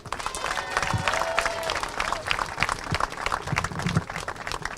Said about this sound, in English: a big round of applause for Mom Erica.